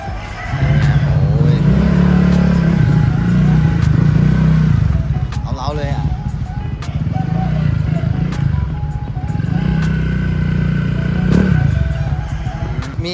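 Modified exhaust of a Yamaha Giorno scooter while it is ridden, a loud throaty engine drone rising and falling with throttle, close up, with wind buffeting and a voice speaking briefly over it.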